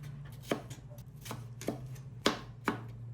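Tomatoes cut into small pieces with a knife on a board give five clear, evenly spaced chopping knocks over a low steady hum, close and fairly quiet, with no one speaking.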